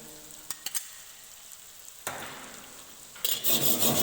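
Chopped onion frying with ginger garlic in a pan, a few sharp clicks, then a sizzling burst that grows louder as the mixture is stirred and scraped, no voices.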